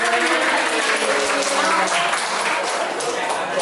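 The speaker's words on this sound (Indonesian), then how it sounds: "Tepuk tangan buat teman-teman semuanya" An audience claps at an inclusion event, a dense wash of applause that stays loud and even throughout, with voices mixed in beneath it.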